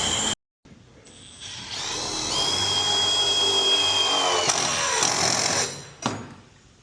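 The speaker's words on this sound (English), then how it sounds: "Drill little holes at the end of those." A power drill spins up after a brief click and whirs steadily for a few seconds while boring small holes, its pitch shifting slightly under load before it winds down, close by.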